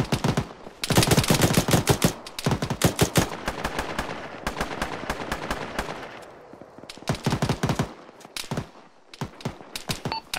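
Machine gun fire in a military video game, rapid automatic bursts ringing out loud and close in several long volleys with brief pauses between them, no voices over the shooting.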